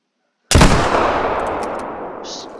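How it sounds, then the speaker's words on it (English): A single loud muzzleloader rifle gunshot fired in a hunting video game, a sharp blast followed by a long rolling echo that fades slowly. "I'm gonna shoot the muzzleloader"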